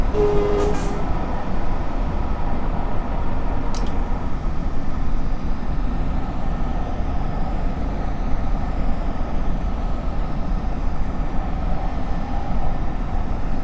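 A New Jersey Transit Arrow train runs steadily on rails between Baltimore and Washington, a constant broadband rolling roar with a couple of brief high squeaks or hisses early on, no voices.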